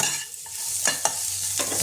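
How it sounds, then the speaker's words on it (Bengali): Turmeric and chilli powder fry in oil in a pan, a steady close sizzle broken by a few scraping stir strokes, with no talking. "এটা আমি আরেকবারও ভালো করে ভেজে নেব"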